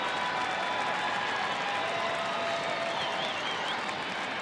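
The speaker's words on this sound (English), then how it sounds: "Crowd trying to get behind Neil Kotz here." Baseball stadium crowd at a Texas game cheering and clapping steadily, a dense, continuous roar with scattered whistles, sustained at even loudness throughout.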